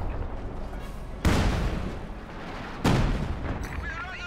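Rocket barrage salvos in Company of Heroes 2 land as two heavy broadband blasts about a second and a half apart, each followed by a rumbling tail over continuous battlefield noise.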